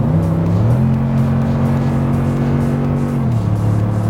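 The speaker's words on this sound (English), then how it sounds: "There's nothing like the sound of a V8." Steady low exhaust drone from a 2016 Toyota Tundra TRD Pro's 5.7-liter V8, holding a constant pitch, then dropping briefly just before one second and again near the end, loud and close with no talking.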